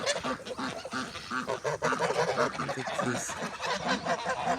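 Geese on a small backyard farm honk and call repeatedly in a loud, busy cluster, with human voices mixed in among the birds.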